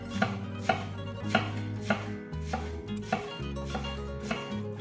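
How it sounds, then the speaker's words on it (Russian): A kitchen knife slices a 150-gram yellow onion, halved and cut lengthwise into thin strips, for a Thai-style turkey dish. About a dozen crisp, evenly spaced board taps sound close by over steady background music. "головку репчатого лука массой 150 грамм и нарезаю ее перьями"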